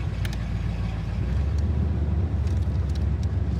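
A 1968 Corvette engine idles steadily with a deep low rumble that swells slightly after the first second, continuous and close, with faint higher clicks on top.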